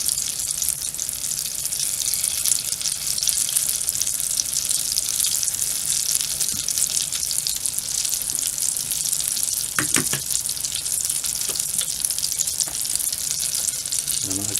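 Funnel cake batter fries in hot oil with a steady, dense sizzle and scattered small pops, loud and close throughout.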